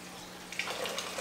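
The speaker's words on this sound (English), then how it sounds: "and there you go. Water comes out." Aquarium water pours from a siphon hose after a squeeze of the bulb, a faint trickling gush that starts partway through and continues softly with small splashes.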